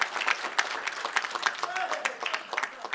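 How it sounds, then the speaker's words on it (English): At a 2022 association members' meeting, a crowd gives a round of applause, a patter of uneven claps rising and falling throughout with voices talking over it. "So just another round of applause, please"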